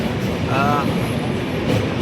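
A long-distance train crosses a bridge at Kashi Ghat, a continuous close rushing rumble for two seconds with a brief tonal squeal near the middle.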